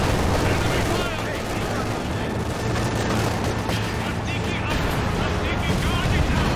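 Dense, continuous gunfire and battle noise in the video game Company of Heroes 2, loud and unbroken throughout, with shouted voices mixed into the din.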